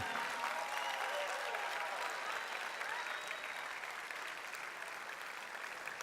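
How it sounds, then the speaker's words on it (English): A crowd at a New Orleans awards event claps steadily in sustained applause, a dense wash of hands that stays loud and even throughout, fading only slightly toward the end. "Big round of applause."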